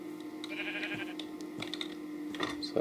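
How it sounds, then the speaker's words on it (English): A Minecraft sheep bleats in a short wavering cry near the start, with a second fainter bleat toward the end, over a steady hum of game background and light clicking, no talk. "There is another sheep here."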